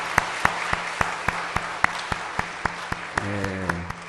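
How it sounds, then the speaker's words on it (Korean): A church congregation at a Sunday afternoon service claps in unison, sharp evenly spaced beats close and clear over a quiet room, with a short sustained tone rising near the end. "한 번 더 박수 한번 치겠습니다"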